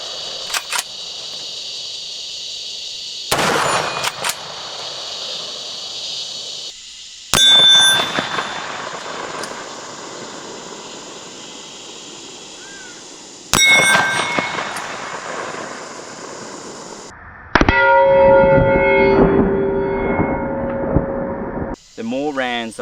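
Wedgetail MPR rifle shots at steel targets outdoors, a handful of sharp, loud single cracks separated by pauses of several seconds, with metallic ringing and a spoken voice in places.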